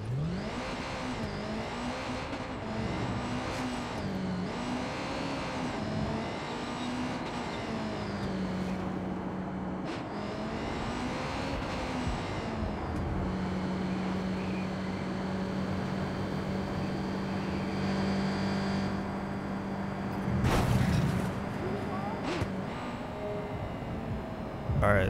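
A car engine drones steadily while driving in the video game Watch Dogs 2, its pitch rising and falling as it shifts and accelerates, with tyre and road rumble underneath and a brief louder swell near the end.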